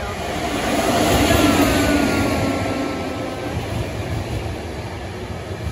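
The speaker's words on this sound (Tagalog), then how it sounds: "Uy, may train, guys." A train passes in Bulgaria en route toward Bansko, a loud continuous rumble swelling and then slowly easing as the cars roll by nearby.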